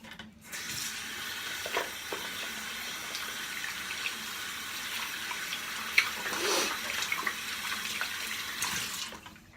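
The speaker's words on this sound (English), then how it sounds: "wash out my brush while this soaks in a little bit" Water running from a tap to rinse out a shaving brush at a sink: a steady close splashing flow with occasional small knocks and swishes, no talking.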